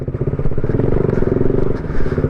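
Motorcycles from a bike group idle and rev on an off-road trail near Chikkamagaluru, a loud, close, throbbing engine rumble with a clattering edge, and a voice speaks briefly over it.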